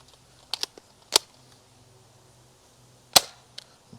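A Nerf Rival Knockout blaster fires foam balls, making several sharp, close snapping shots: a quick pair, a single one, then a louder crack with a softer follow-up, separated by quiet gaps.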